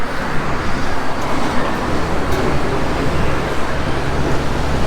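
Steady road traffic beside a bus terminal near a small river in a Singapore Malay district, a continuous broadband rumble of passing cars and buses with no pauses.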